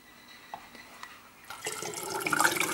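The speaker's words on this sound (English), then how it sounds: "So 3 pints of cold water added to the wine juice." Cold water pours into elderberry wine juice, starting after a few faint drips and building into a steady, splashing gush that grows louder toward the end.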